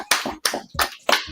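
A studio audience applauds to close out a Hebrew language class: four quick bursts of hand clapping in an uneven rhythm, close and fairly loud, with short gaps between them and no talking.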